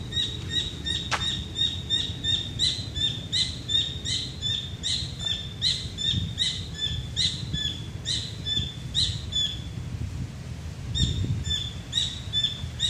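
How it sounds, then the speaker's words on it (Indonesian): Repeated bright bird calls on Onrust Island, Indonesia, a rhythmic series of chirping whistles, fairly close, over a low rumbling background, pausing briefly before resuming. "itu bukan suara orang ketawa ya, itu suara burung."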